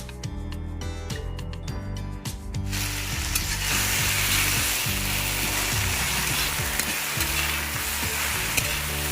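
Onions and lofa greens, Chinese mallow, frying in a very hot wok with a steady loud sizzle, first under a short rhythmic stirring clatter, then a dense continuous hiss.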